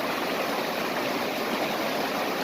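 Mountain stream water rushing through a gold-prospecting sluice setup in the San Gabriel Mountains, a steady, dense wash of flowing water heard up close without a break.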